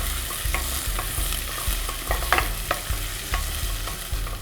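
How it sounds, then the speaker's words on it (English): Chopped onion and garlic sauté in a pan with a constant sizzle, while a spatula scrapes and stirs in a fairly regular rhythm, close and loud with no voices. "So I'm going to saute the onion and garlic until it becomes soft"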